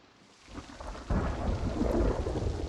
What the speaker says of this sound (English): it's stormy, it's raining